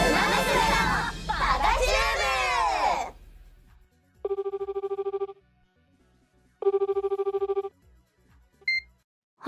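A telephone rings in a call from Gyaru to Gold Shichi, two bursts of an electronic warbling ring separated by silence, clear and close, following a stretch of voiced chatter at the start.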